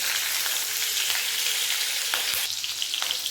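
Chopped green chillies sizzling in hot frying oil with cumin and mustard seeds, a steady loud crackle and hiss alone throughout, with a few faint stirring clicks.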